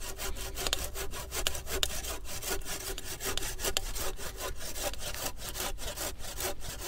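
A hand saw cuts through wood in a rural village setting, making continuous, even rasping strokes at a brisk steady rhythm, close and alone with no talk.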